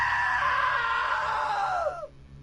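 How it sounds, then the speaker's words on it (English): A single long, loud human scream, sustained and wavering before dropping off sharply at the end, heard alone without talk. "Now that was a great scream."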